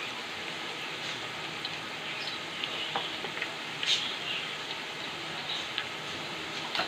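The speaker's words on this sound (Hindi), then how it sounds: "ज़ीरे को अच्छे से दराड़ लेना है हमने अंदर।" Cumin seeds fry in oil in a pan, giving a steady, even sizzle with tiny intermittent pops and crackles, close and fairly quiet, with no talking.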